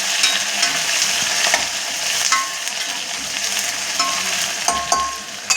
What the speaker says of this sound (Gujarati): હલાવી લઈશું